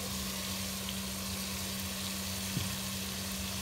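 Spices, salt, red chili powder and turmeric sizzle in hot oil for aloo gobi. A steady close frying hiss runs throughout with a brief stir near the end.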